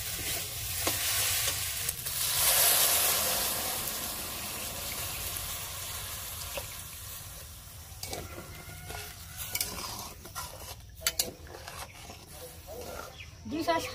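Sago fried lightly in a pan, then milk poured in: a close sizzle and bubbling with stirring clatter, softening as the liquid settles, occasional utensil knocks.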